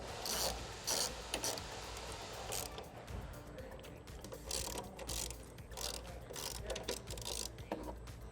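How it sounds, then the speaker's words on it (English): Ratchet wrench tightening 10 mm bolts on a bracket for a dual MAF translator box in a Nissan 300ZX Z32 engine bay, giving repeated close clicking bursts in an uneven rhythm. "take the 10 mil we removed, start threading it, and then we'll tighten them both up at the same time"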